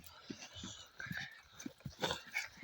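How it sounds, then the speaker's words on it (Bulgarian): Dogs barking and yipping back and forth at each other at a distance, a series of short repeated barks with whispery human voices mixed in. "Явно се лаят един с друг."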